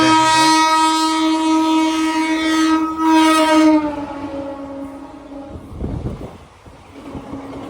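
A Villupuram SF Express train blows a long, loud horn with strong harmonics for nearly four seconds, then fades into rumbling, clattering wheel and carriage noise as the train passes close by.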